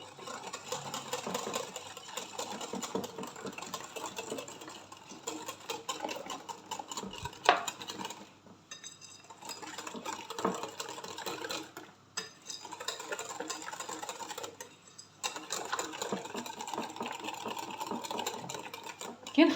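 Egg and coffee batter with cocoa is whisked steadily in a bowl, giving a fast, continuous rhythmic clatter with brief pauses, close and fairly quiet.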